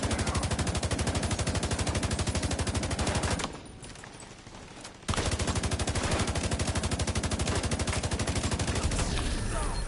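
Rapid, loud automatic gunfire from the Eagle Bear gun in a video game, a steady stream of shots that stops for about a second and a half, then resumes just as densely.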